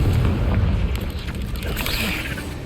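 A Confringo fire-spell blast in Hogwarts Legacy booms loudly and rolls into crackling, rumbling debris, with sharp bursts over a dense low roar.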